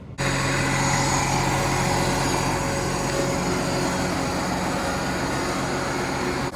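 Steady engine drone of a new Case IH Magnum 310 tractor heard from inside the cab, a continuous loud hum with even low rumble and cab fan hiss, unbroken throughout.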